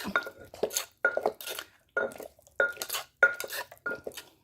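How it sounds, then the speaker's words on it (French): A plate is handled beside a pan of tomato sauce, a run of sharp, close ceramic clinks and knocks in an uneven rhythm, with no voices. "Je vais retirer l'assiette là."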